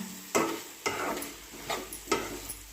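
A spoon scrapes through egg and drumstick curry in a pan in four distinct, evenly spaced strokes over a soft background sizzle, close and clear with no talking.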